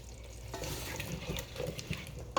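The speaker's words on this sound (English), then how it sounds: "So I'm gonna put in the potatoes, the carrots going in." Potatoes and carrots being stirred into a simmering beef stew over medium heat, a soft sizzle under scraping and stirring strokes, with a sharper clink of the utensil against the pot near the end.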